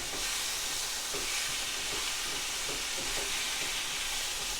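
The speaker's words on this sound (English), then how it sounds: "Give it another little stir." Fajita meat sizzles steadily in a hot pan while a utensil stirs it, soft scraping strokes breaking through a constant broadband hiss, close and moderately loud with no talking.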